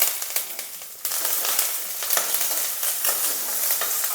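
Ginger and curry leaves frying in a pan for a coriander chutney, giving a steady close sizzle with crackling and the scrape of stirring throughout, no voices.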